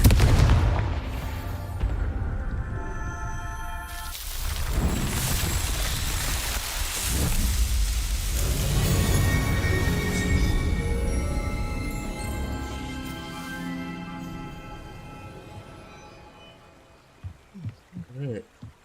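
Spell blasts and explosions from the Confringo curse in the Hogwarts Legacy video game, loud rumbling booms that swell and decay over several seconds, ending in a few short sharp pops.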